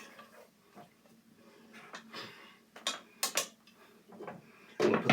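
A lid set onto a simmering cooking pot: scattered light metallic clinks and rattles, then a louder clattering clunk near the end, all close by in a quiet kitchen.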